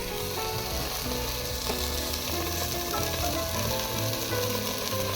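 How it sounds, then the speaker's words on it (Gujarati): Ground ginger and chili tempering sizzles and crackles steadily in hot oil while cooking khaman, a continuous close frying hiss with small popping bursts and no voices. "અને તડાકા બડાકા બોલી રહ્યું તેલમાં."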